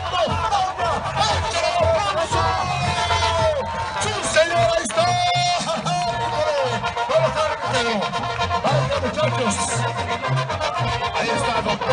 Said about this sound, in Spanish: El aplauso que se escuche.